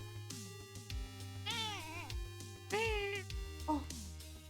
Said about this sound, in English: Mark is meowing at me.